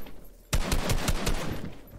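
Rapid gunfire from a PC first-person shooter match, a sudden close burst of about six sharp shots in quick succession after a brief quiet lead-in.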